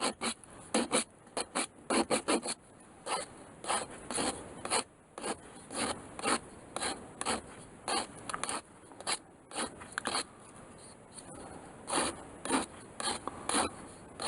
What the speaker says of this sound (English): it's time to round off the nose tip. I'm doing this with a sandpaper file,